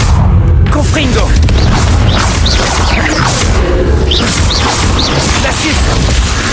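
A loud, continuous crashing blast of the Confringo explosion spell in the Hogwarts Legacy video game, with whooshing bursts layered throughout and busy game sound that never drops away.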